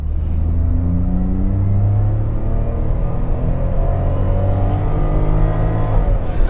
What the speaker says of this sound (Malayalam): ആ എഞ്ചിൻ്റെ നോട്ട് കേട്ടില്ലേ